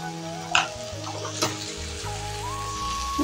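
Cabbage cooked with fish head sizzles in a pan with a spoonful of ghee and a pinch of garam masala, a steady frying hiss broken by two distinct stirring scrapes, close and moderately loud.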